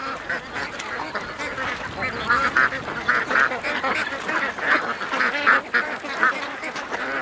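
A flock of more than a thousand ducks rushing out of a pen quack continuously, with dense overlapping calls forming a loud, unbroken chorus near and far.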